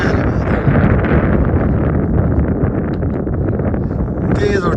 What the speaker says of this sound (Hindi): तेज़ और ठंडी हवा चल रही है।